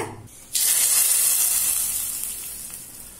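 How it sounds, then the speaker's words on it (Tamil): Mustard seeds, curry leaves and dried chillies are tempered in hot oil for sambar: a sudden loud, bright sizzle bursts in and then fades gradually, close up and without talking. "இப்ப சாம்பார கடுகு, கருவேப்பிலை, காஞ்ச மிளகாய் போட்டு தாளிச்சிடலாங்க."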